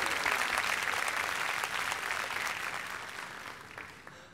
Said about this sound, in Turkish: Jürimize ve Cansu Yolcu'yu alkışlıyoruz bu güzel performansı için